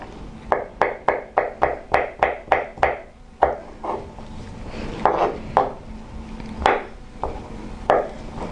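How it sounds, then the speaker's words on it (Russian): A knife chops carrots into small cubes on a wooden board, first a quick even run of about ten sharp nearby taps, then slower scattered cuts, with no talking. "Мелкими-мелкими кубиками, такими же, как и остальные ингредиенты,"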